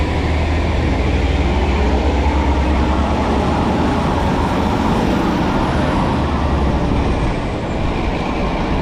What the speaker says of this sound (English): There's a lot of cars on the road right now.